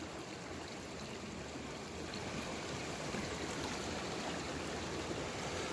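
A waterfall and stream at a gossan gravel gold-panning site produce a steady, even wash of flowing water, moderately distant and continuous with no voices.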